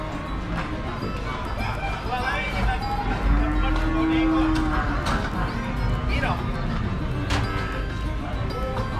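Cattle being unloaded at a busy livestock market in Gondanglegi, Malang, giving drawn-out moos amid a constant crowd din and scattered clatter, with people talking throughout.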